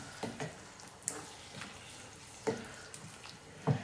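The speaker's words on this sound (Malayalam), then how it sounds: "നന്നായിട്ടൊന്ന് ഇളക്കി കൊടുക്കാം." Cauliflower and potato curry being stirred in a pan, with a few scraping strokes and soft clicks of a spoon over a low sizzle, fairly close and without talk.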